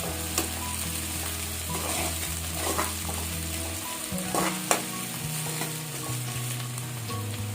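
Cleaned dried shrimp and green chillies fry in a pan for a dried-shrimp and cucumber curry, giving a steady close sizzle with occasional stirring scrapes, under background music and without talk.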